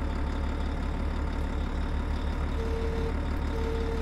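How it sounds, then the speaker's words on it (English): Heavy truck engines in a demolition video game drone in a steady, loud low rumble that holds unchanged throughout with no voices. "These engines are so loud."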